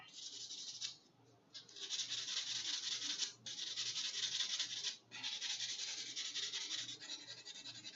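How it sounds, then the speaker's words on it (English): A nail file rasps across fingernails in close, quiet strokes, a dry scratchy rubbing that runs in bursts separated by short pauses. "Go on and do your filing."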